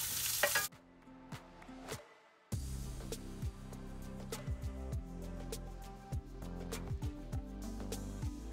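Mushrooms sizzle steadily in a hot pan for vegetarian fried rice while a spoon stirs and scrapes, giving repeated clacks over the constant frying hiss, after a brief quiet moment as they go in.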